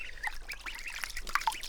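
Ducks swimming and diving in a small backyard pool give short, scattered quacks and honks over a soft background hiss.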